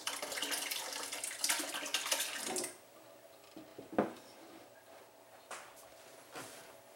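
Goat milk curds poured into a pan during cheesemaking, a close, steady watery splashing and trickling for nearly three seconds, then quieter with a few scattered clinks and splashes.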